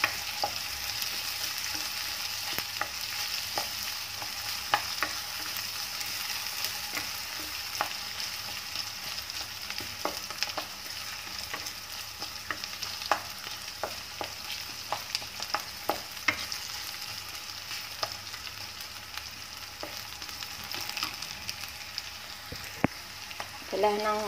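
Mung beans, shrimp and spinach sizzle in olive oil in a pan while being stirred, giving a continuous bright frying hiss broken by repeated scraping and clinking strokes of the utensil. Heard close up, with no talking.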